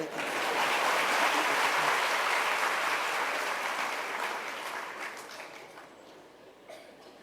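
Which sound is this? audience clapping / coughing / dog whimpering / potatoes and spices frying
audience clapping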